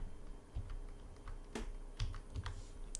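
Typing on a computer keyboard while scripting in Tabletop Simulator: a quick, irregular run of close, crisp key clicks with short pauses between strokes and steady low room noise underneath, with no voices.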